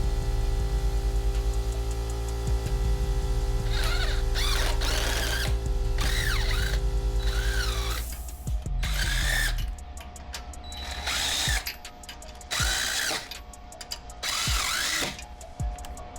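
A power tool cuts a wheel stud on a 2025 Dodge Durango R/T fitted with spacer lug nuts, producing a loud continuous grinding whine that breaks into bursts of harsh mechanical ratcheting and rattling.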